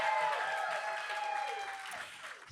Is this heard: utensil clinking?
no